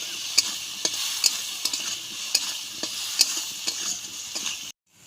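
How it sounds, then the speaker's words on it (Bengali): Salted, turmeric-dusted potatoes fry in a pan with a steady, moderate sizzle, broken by regular taps and scrapes of a spoon stirring. Nobody speaks, and the sound cuts off abruptly at the end. "আলুটাকে আমাদের ভালো করে ভেজে নেব।"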